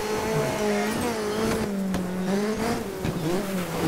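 A rally car engine in Dirt 3 revs hard and steadily, its pitch rising and falling with throttle as the car swings its tail around, loud and close, with a faint tire squeal underneath.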